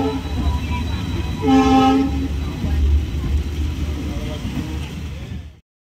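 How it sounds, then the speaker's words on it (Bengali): A train bound for Ranaghat rumbles along on a rainy day with steady low rolling noise, a brief horn-like tone midway, and faint voices, before the sound cuts off abruptly. "এখন রানাঘাটের ট্রেনে উঠলাম।"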